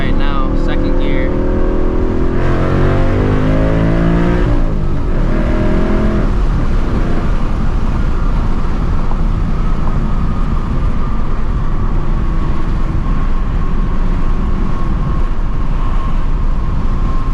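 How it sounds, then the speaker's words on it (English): A 2024 Ford Mustang GT with a manual MT82 gearbox pulls hard in second gear. Its engine note climbs steeply for several seconds and then settles into a steady, loud roar of road and wind noise, while someone talks over it. "I'm gonna do a little hit right now, 2nd gear."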